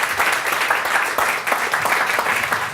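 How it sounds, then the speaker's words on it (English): A studio audience gives a big round of applause after a dating-service pitch, steady dense clapping filling the whole stretch at close range, no voices on top. "Big round of applause."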